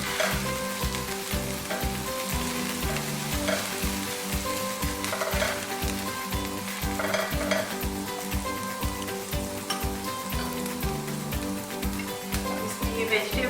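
Garlic sizzles and fries steadily in a hot pan, a dense continuous crackle with a rhythmic stirring pulse throughout, loud and close, with no talk over it.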